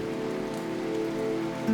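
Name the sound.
heavy rain falling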